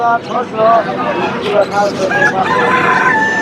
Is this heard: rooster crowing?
yes